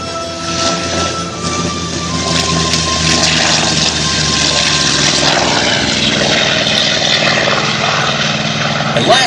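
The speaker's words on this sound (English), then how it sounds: "Let's listen in as the F4U Corsair takes flight." An F4U Corsair propeller warplane roars at full power as it takes off at an airshow, a loud, sustained engine drone building and holding throughout, with crowd and announcer voices faintly mixed underneath.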